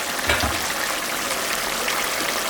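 Fish curry with khanman stalks bubbling in an open pot once the lid comes off, a steady close watery rumble and gurgle running throughout with a brief clink near the start.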